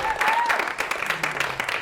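A comedy show audience claps steadily in a dense burst of applause, with a voice briefly heard over it.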